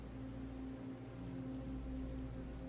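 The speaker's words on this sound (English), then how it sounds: "the rain would continue to come down until within a few minutes, it's raining pretty heavily." Steady rain falling during a storm, a continuous soft hiss with a low rumbling bed, constant and fairly faint throughout.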